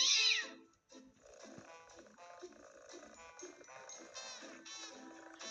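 A cat gives a short, bright meow right at the start, then falls quiet while people talk close by for the rest of the moment.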